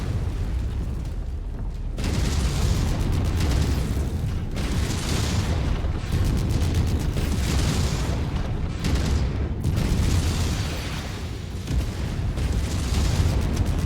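Artillery shells burst repeatedly in the mech combat game Mechwarrior 5, heavy booming blasts hitting in quick irregular succession, loud and close, with deep rumbling between impacts.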